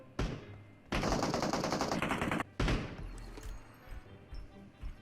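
Gunfire in a shooting video game: sharp bursts of automatic fire, one short shot followed by two long loud sprays, then quieter scattered in-game noises afterward, with no talk.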